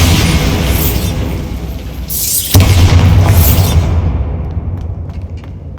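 A Bombarda blasting spell goes off in the Hogwarts Legacy game: a loud booming explosion bursts at mid-clip over low rumbling, then its roar fades into a quieter tail.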